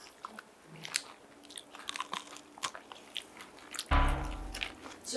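Crunchy chocolate filled with pistachio is bitten and chewed close to the mic, with crisp cracks and crunches scattered through quiet chewing and a louder, heavier crunch near the end.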